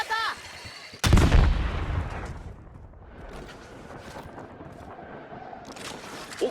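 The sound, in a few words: grenade explosion and gunfire in Warzone Mobile video game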